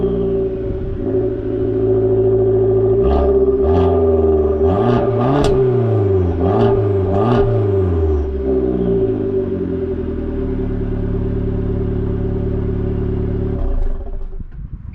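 A Dodge Dart's 1.4-liter turbocharged four-cylinder engine, paired with a six-speed manual, idles steadily, then revs in a quick series of five or six rising-and-falling blips before settling back to idle and falling quiet.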